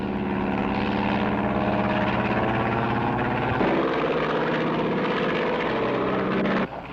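A small propeller plane drones loudly overhead in a steady, continuous engine hum, with its pitch shifting partway through as it passes.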